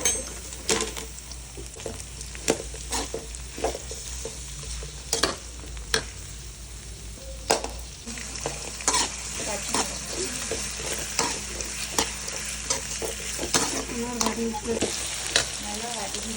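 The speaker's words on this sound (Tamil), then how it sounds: "நல்லா வதங்கி வச்சுருவாங்க." Whole cinnamon, cloves and cardamom sizzle steadily in a pan for biryani while a spoon stirs and scrapes, with occasional metal clinks close by.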